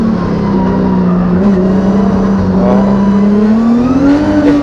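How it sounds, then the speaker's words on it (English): Formula Drift car sliding sideways at steady half throttle in second gear, tires slipping, with a loud sustained engine drone that wavers slightly, plus tire hiss, continuous and close, no talk. "See how he's just like half throttle the whole time and then everything's slipping and sliding."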